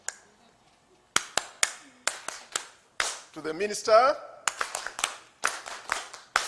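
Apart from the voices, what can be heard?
audience clapping in an organized way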